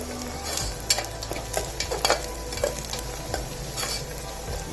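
Mutton kheema sizzles and fries in hot oil while a spoon stirs and scrapes through the mince in a pan, with steady crackling and intermittent clinks of the utensil, close and continuous.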